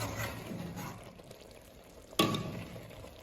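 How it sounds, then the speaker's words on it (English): Fish pieces are eased back into a pot of simmering vegetable soup: a low, steady bubbling bed, then one sudden sharp splash-and-plop near the end. "I want to add back the fish carefully so that everything will cook together"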